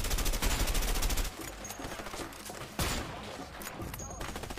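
Rapid automatic gunfire from the video game A Way Out, a loud dense burst of shots up front that eases into continuing lighter fire with another sharp volley near the end, with faint talk underneath.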